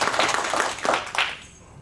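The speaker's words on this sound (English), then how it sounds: "Can we give them a round of applause?" A round of applause rises from an audience at a school district presentation: a brief burst of many hands clapping that fades out near the end.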